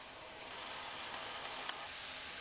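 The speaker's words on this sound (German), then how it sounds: "Kardamom, Nelken, Kreuzkümmel und Zwiebel alles gut anbraten" Steady hissing sizzle of cardamom, cloves, cumin and onion frying in a pan, close and even, with a couple of faint ticks and pops.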